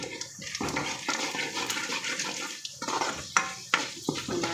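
Urad dal and cumin seeds being stirred in a pan: a soft scraping and rustling with a few sharper clinks of a spoon against metal, fairly quiet and close, with no talking.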